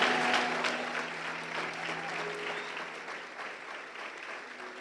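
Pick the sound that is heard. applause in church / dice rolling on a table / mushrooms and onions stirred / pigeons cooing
applause in church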